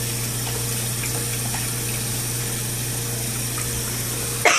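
Running tap water pours steadily while a pet rat is bathed, a continuous close hiss and hum with a slight bump at the very end and no talking.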